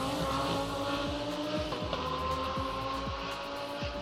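GT race cars, an Audi among them, run hard at Sepang International Circuit in Malaysia during a GT Asia and Thailand Supercar race, engines roaring loudly and continuously as several cars pass close by with rising and falling pitch shifts.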